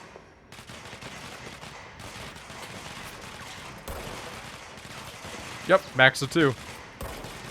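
Allied characters fire their guns in the video game Control, a tight cluster of sharp shots around the six-second mark standing out over a steady low game ambience, with a voice speaking briefly.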